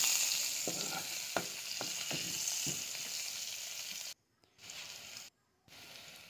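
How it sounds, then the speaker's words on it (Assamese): Onions hit hot oil in a kadai just after fish has been fried in it, giving a loud, steady sizzle and crackle that cuts out abruptly twice before resuming. "মাছখিনি ভাজি হোৱাৰ লগে লগে মই এতিয়া কেৰাহীখনতে পিঁয়াজ দি দিলোঁ"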